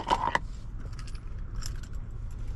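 Keys on a 2019 Acura MDX key fob jangle for a moment near the start, a brief bright metallic rattle over steady low rumble, in rainy conditions.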